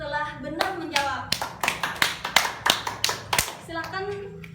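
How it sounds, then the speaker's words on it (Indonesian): Schoolchildren in a twelfth-grade fiqh class clap in a quick rhythmic burst of about a dozen sharp claps for a classmate, with children's voices talking before and after. "Tepuk tangan untuk kawannya dulu yang setelah benar menjawab."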